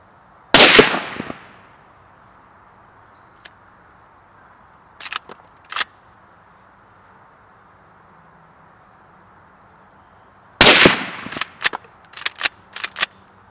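A Mauser 25 straight-pull hunting rifle in .308 fires two loud, sharp shots about ten seconds apart outdoors, each followed by brief clicks and clatter of bolt work and echoes, with near silence in between.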